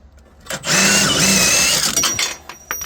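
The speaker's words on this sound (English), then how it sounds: "17 wrench, and I just spin it out." A rear shock bolt on an Infiniti G37/G35-type car is spun out with a 17 mm tool, giving a loud, steady mechanical whir for about a second and a half, with a few clunks before and after.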